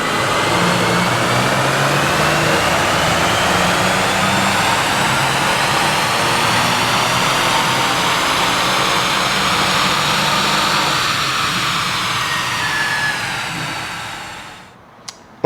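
A 2017-2020 Lincoln Continental 3.0L engine runs hard on a dyno with a loud, sustained roar and rising whine that holds steady, then winds down and cuts off near the end.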